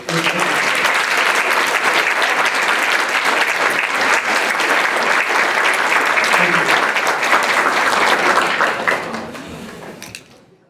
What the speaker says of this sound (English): one more round of applause for Colleen and her committee that put this together